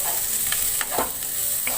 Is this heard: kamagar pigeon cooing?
no